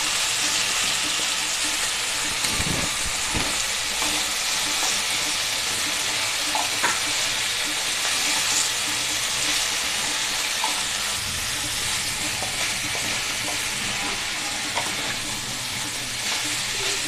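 Potato and cauliflower curry with onion and tomato sizzles steadily in a pan, a constant hiss of frying that lasts throughout. Occasional scrapes and knocks from stirring sound through it, and no voice is heard.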